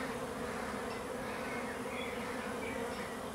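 A honeybee swarm gathered at the hive gives off a steady, dense buzz of many wings, constant and close with no pauses.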